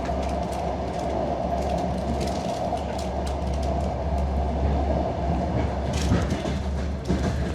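Steady low rumble of a Lithuanian passenger train running on rails through forest, heard from inside a crowded carriage without air conditioning, with continuous wheel noise and occasional faint clatter throughout.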